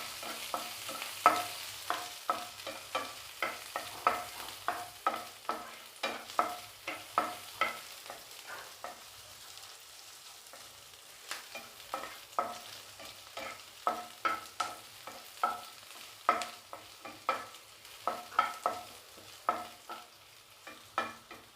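Onions sautéing in a pan for a potato coconut milk curry, a quiet sizzle punctuated by repeated rhythmic scrapes and taps of a spatula stirring, close and steady with a short pause midway, no speech.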